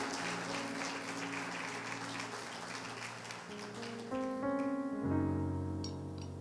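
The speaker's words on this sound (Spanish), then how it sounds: "denle un aplauso a Dios esta mañana" A church congregation applauds during a Sunday morning sermon, steady soft clapping under sustained organ or keyboard chords that shift pitch and swell toward the end.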